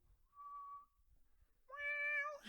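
A cat meows alone in a quiet room, a thin tonal call followed by a louder, sustained harmonic meow that rises at the end, with faint low background rumble in between.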